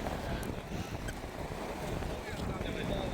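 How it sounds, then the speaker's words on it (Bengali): Strong wind gusts and waves roll in at the sea shore in Dammam, Saudi Arabia. The wind roars continuously into the microphone over a wash of surf, with a voice talking at times. "আজকে প্রচুর ঢেউ, প্রচুর বাতাস।"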